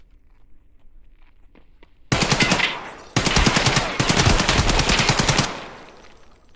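Rapid automatic gunfire in a firefight with AI PMCs in a PvE shooter video game, loud, close bursts of closely spaced shots in three runs after a quiet opening with faint footsteps, then fading into a short tail.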